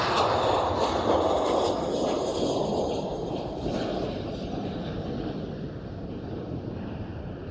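Airplane at Amsterdam Schiphol airport bound for Minneapolis, a broad, steady engine roar mixed with wind buffeting on the microphone, loud at first and easing slightly as it continues.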